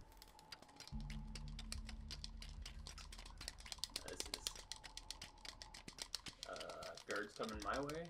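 Rapid game clicking sounds while digging a tunnel in the video game A Way Out, a dense run of sharp ticks over a low hum, with talk alongside and brief louder effects toward the end.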